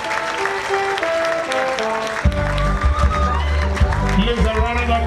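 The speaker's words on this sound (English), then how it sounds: "Please, a round of applause" Audience applause at a college commissioning and matriculation ceremony in Nigeria: broad clapping from a crowd, mixed with voices and a loud low hum from the sound system, continuing steadily.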